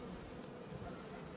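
Honey bees buzz steadily around a hive during work combining a swarm with a mite-damaged colony, a dense, even hum filling the short moment without any voices.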